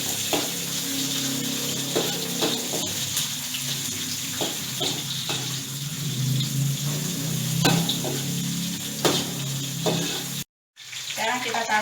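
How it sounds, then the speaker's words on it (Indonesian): Vegetables and spice paste sautéed in oil in a pan while cooking Ambon yellow-broth fish, a steady close sizzle with intermittent stirring scrapes and clatter, running alone and breaking off briefly near the end. "sekarang kita tumis bumbunya"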